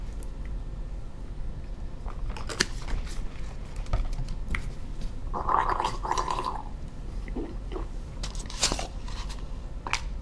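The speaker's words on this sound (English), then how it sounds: "and gargle as well." Someone gargles antiseptic mouthwash in a wet, bubbling burst that builds at mid-clip, set among scattered small clicks and mouth noises at close range.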